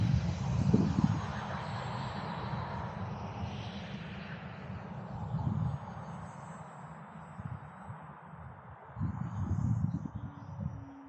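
An E-Flite Conscendo Evolution RC model plane whines faintly in the distance, its propeller engine tone drifting as it circles, with bursts of wind rumble at the microphone.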